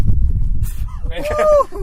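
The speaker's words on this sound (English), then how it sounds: "There's a big goose coming by." A large goose passes by and gives one drawn-out, wavering honk near the end, loud and close, over rumbling low background noise and traffic-like din.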